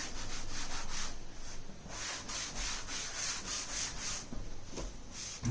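A board is rubbed clean of handwritten notes in a chemistry lesson, giving repeated close, broadband scrubbing strokes that carry on steadily with brief pauses and no talking.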